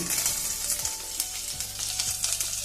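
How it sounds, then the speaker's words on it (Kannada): Garlic, onion and cumin fry in oil for a Mexican mint chutney, giving a close, steady sizzle broken by light scraping stirs. "ಚೆನ್ನಾಗಿ ಎಣ್ಣೆಲಿ ಫ್ರೈ ಮಾಡ್ಕೊತೀನಿ. ಬೆಳ್ಳುಳ್ಳಿ ಹಾಕೋತೀನಿ, ಸ್ವಲ್ಪ ಈರುಳ್ಳಿ, ಸ್ವಲ್ಪ ಜೀರಿಗೆ"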